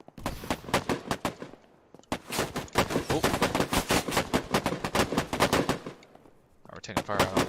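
Rapid bursts of automatic gunfire and single shots in the shooter game Operation: Harsh Doorstop, dense and loud, with a short lull before the firing resumes.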